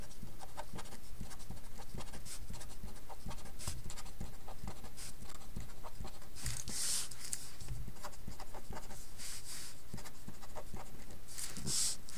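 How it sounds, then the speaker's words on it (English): Pen strokes on paper write out a row of phone numbers, a faint steady scratching with light taps, close but quiet against a soft background hiss, without speech. "I'll just write them out."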